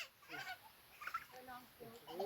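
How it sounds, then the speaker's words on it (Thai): A turkey gives a few short, honking gobbling calls at a modest distance, with people talking nearby. "ไก่พูตัวนึง"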